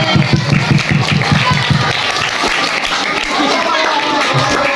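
Children in grades 4 to 6 at a Ramadan Islamic boarding school program clap in a quick, rhythmic burst. The clapping then loosens into busy crowd noise with voices chattering nearby.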